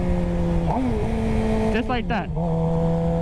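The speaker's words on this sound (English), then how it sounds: "So this is engine braking," A Suzuki GSX-R 750 motorcycle engine idles steadily close by, then blips and rises in pitch in quick downshift revs under engine braking before settling back to a steady idle; a person talks briefly over it.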